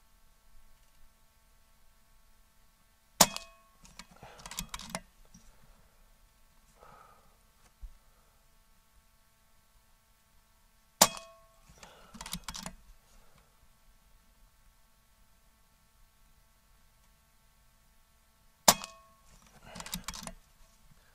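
Air Arms S510 TXS air rifle firing JSB pellets at a paper target: three sharp, isolated shots spaced several seconds apart, each followed by a brief burst of mechanical clatter, in a quiet setting with no talk.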